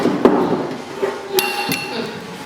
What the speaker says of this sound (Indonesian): kita lubangi kaleng di bawah kaleng